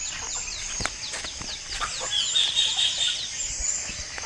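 A chicken clucks nearby in a series of quick, repeated calls over an open outdoor background, loud and close with no talk.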